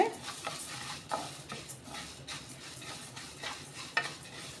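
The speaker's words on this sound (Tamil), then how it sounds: "கம்பை லோ ஃப்ளேமில் வச்சு ஒரு மூணு நிமிஷம் வறுத்து எடுத்துக்கோங்க" Pearl millet grains dry-roasting in a pan over a low flame, stirred steadily with a spatula, giving a soft continuous rustle with light scraping clicks throughout.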